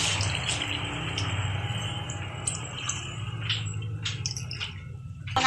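Water poured into a cooking pot of tulingan fish paksiw with vinegar: a steady, close wash of running liquid with scattered small splashes and drips, ending in a brief louder knock.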